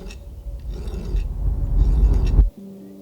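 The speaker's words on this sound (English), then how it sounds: "Once it's cut, I can do the detail work with a file." A hand file rasps steadily over a silver ring casing trimmed with a twist-wire border, the scraping growing louder for about two and a half seconds before cutting off abruptly, leaving only faint background hum.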